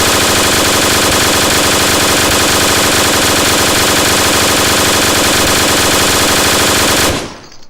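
A Lewis gun fired in Garry's Mod (Half-Life 2), one loud unbroken automatic burst of rapid shots lasting about seven seconds before abruptly stopping.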